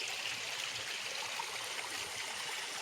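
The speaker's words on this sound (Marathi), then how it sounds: "पाण्याचा आवाज एकदम." A river stream in a Konkan village near Khed flows with a steady, close, even rush of water and no other sounds.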